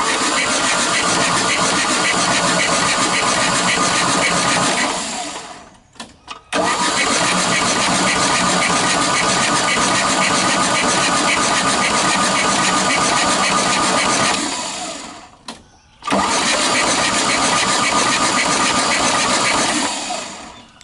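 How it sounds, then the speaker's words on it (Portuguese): A 1978 Chevrolet Opala engine, ignition off and spark plugs removed, cranked by the starter motor in three long, even, rapid churning bursts separated by brief pauses, loud and close without ever firing. "o sistema de ignição desligado e sem as velas, porque eu quero fazer com que a pressão do óleo chegue até os tuchos"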